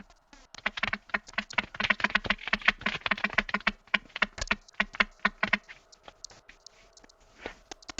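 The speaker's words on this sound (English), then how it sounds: "I'm just opening the stats thing on my phone if you heard clicking." Light clicking and tapping on a phone screen, a quick irregular patter of small close clicks that thins out toward the end, with no talk over it.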